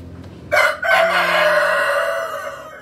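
Six-month-old Rhode Island Red breeder chickens, young hens not yet laying, in a farm breeding pen: a loud, close rooster crow rises after a short pause and holds, with soft clucking beneath.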